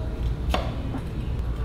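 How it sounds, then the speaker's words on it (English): A kitchen knife chops the end off a hot pepper on a cutting board, making one sharp near chop and a fainter second tap against quiet room noise. "we're going to chop the end off, then I'm going to chop it in half"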